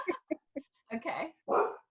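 A pet dog barks in a home, three quick sharp yaps followed by two longer, louder barks, close and alone.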